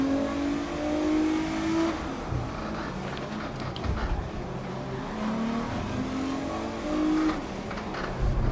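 An Audi Quattro race car in GRID Legends revs hard and loud throughout, its engine note rising and falling through gear changes, with faint tire squeal over steady road noise.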